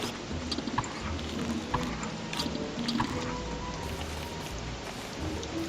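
Steady rain from the video game Don't Starve patters evenly throughout, a continuous dense hiss of drops with a few louder taps.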